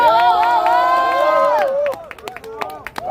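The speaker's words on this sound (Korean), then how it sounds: "뜨거운 박수 부탁드리겠습니다" At a youth street march and rally in Gurae, Gimpo, a crowd lets out loud sustained cheering and shouting, then scattered claps ring out close by as the voices die down.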